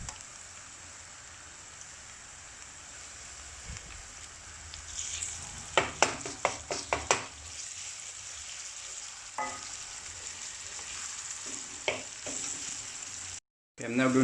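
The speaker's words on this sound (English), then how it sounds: "The onions are now browned. I'm now going to add the ginger and garlic." Ginger and garlic fry with browned onions in a pan, a constant low sizzle that swells when they go in, marked by a cluster of sharp spoon clacks and scrapes against the pan and a few later taps.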